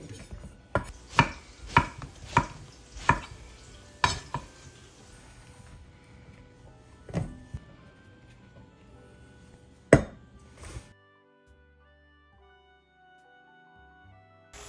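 A knife chops vegetables for pasta alla Norma on a board with sharp, sparse knocks, a quick run of strikes followed by a few isolated cuts, then quiet.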